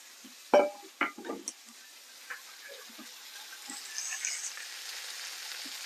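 Pork with mustard fries in a pan, a soft continuous sizzle underneath a few sharp clatters and scrapes as the pieces are flipped, the hiss rising slightly toward the end.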